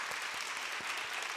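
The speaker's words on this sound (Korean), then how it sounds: "감사의 박수 부탁드리겠습니다." A church congregation at a university Sunday service claps steadily and fairly faintly, a continuous wash of many hands heard from a distance with no voices on top.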